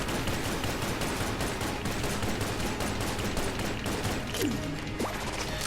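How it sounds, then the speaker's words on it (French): Rapid gunfire from a six-shot revolver in the game Enter the Gungeon, a dense continuous barrage of shots mixed with game effects, loud and steady throughout with no talking. "Ce pistolet 6 coups qui a bien plus de 6 coups dans son chargeur."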